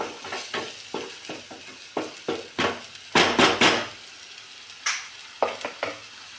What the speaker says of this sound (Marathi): थोडंसं आलं लसणाचं पेस्ट करून घेते आणि ह्यांना परत असं छान असं परतून घ्यायचं